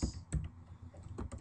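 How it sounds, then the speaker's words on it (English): Someone types on a computer keyboard, a quick run of close, light clicks and taps with short pauses between bursts, no voices over it. "So then we're going to keep on typing."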